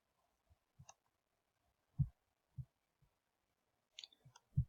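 Several quick, light computer mouse clicks spaced unevenly, close and dry in a quiet room, with no talking.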